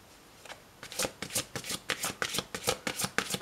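Tarot cards being shuffled for a card reading: a quiet run of about a dozen crisp, rhythmic riffling bursts, close and clear with no voices.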